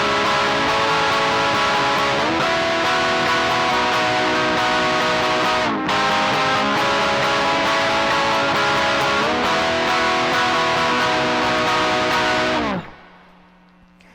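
Distorted electric guitar plays a part of an emo song, loud dense strummed chords that shift several times and ring continuously, then stop abruptly near the end, leaving a quiet low hum.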